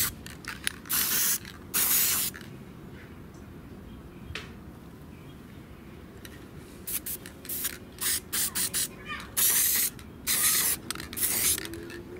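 Aerosol clear coat sprayed onto a Logitech G402 gaming mouse in the shade, a series of hissing spray bursts of varying length, close and fairly loud, separated by quiet pauses.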